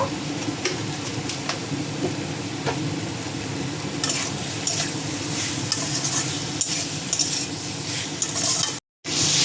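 Elephant foot yam, potato and spices stir-fried for a snakehead fish curry, a constant close sizzle of frying oil with intermittent scrapes and knocks of a spatula in the pan, cutting out abruptly near the end.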